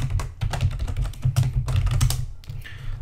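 Rapid clattering keystrokes on a computer keyboard, close and fairly loud, in an irregular stream of taps with a brief pause near the end, no voices.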